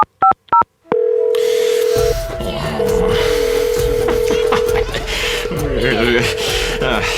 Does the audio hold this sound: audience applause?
no